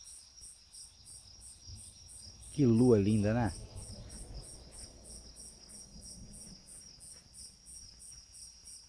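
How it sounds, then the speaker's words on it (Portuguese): Steady high-pitched crickets chirp in a constant pulsing rhythm through the night, with a brief spoken remark partway through. "Esse som dos grilos é muito bom."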